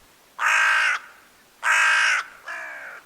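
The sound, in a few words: hooded crows cawing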